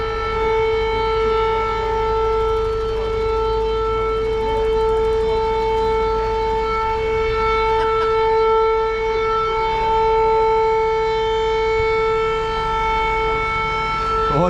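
A civil defense siren wails steadily, holding a loud, sustained tone with strong harmonics throughout and no breaks, with no talk over it.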